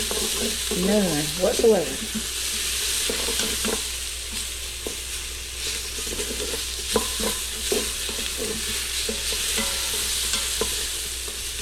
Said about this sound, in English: Remember to stir every now and then. We don't want any burnt onion.